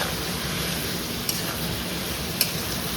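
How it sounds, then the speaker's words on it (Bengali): A paste of garlic, tomato, onion and ginger fries in a pan with a steady close sizzle, broken by two light clicks of a utensil against the pan. "রসুন, টমেটো, পেঁয়াজ আর আদার পেস্ট দেবো, এটা একটু ভাজা ভাজা হোক"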